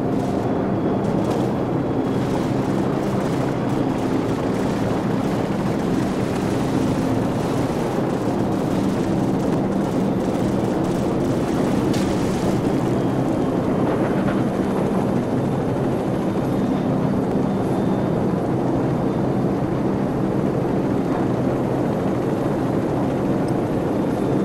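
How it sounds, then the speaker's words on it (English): Friendly military helicopters flying in during a Call of Duty 4: Modern Warfare PC battle, a loud continuous rotor roar with engine drone filling the scene, steady throughout with occasional distant bangs. "friendly helicopters entering the area"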